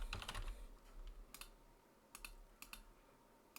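Typing on a computer keyboard, a quick flurry of clicks at first, then scattered sparse keystrokes and short bursts, quiet and close with no talk.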